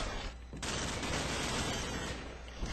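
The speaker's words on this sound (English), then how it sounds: "Gonna try and shoot him as I come up" Rapid automatic gunfire from Call of Duty 4 rattles loudly and continuously in a dense burst, with the shots fading briefly before resuming near the end.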